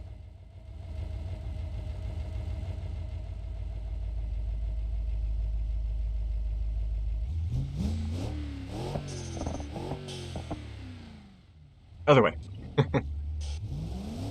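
Simulated car engine in BeamNG.drive with a six-speed automatic, idling low, then revving up through rising gear-shift sweeps, with a brief loud burst near the end and a short spoken remark.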